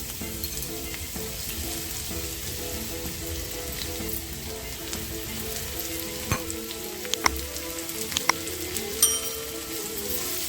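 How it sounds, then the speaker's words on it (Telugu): Small-cut ridge gourd peels fry in oil for a chutney, a soft, even sizzle running for about ten seconds with a few sharper clicks and pops near the end, no one speaking. "చక్కగా దోరగా వేగిపోనివ్వాలండి వేగిపోతే పచ్చడి చాలా టేస్ట్గా వస్తుందండి"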